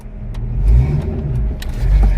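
A Ford Mustang engine revs briefly and loudly up close as the clutch is tested, rising then easing off over about two seconds.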